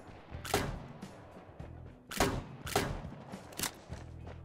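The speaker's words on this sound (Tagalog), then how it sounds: "Ay, sumabog." Several booming blasts go off in the game Rules of Survival, sharp and loud with rumbling tails, separated by irregular pauses.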